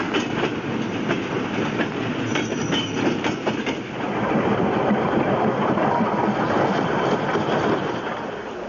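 A train rolls steadily along rails with a continuous rumbling clatter and rhythmic wheel clicks, heard close and alone without voices.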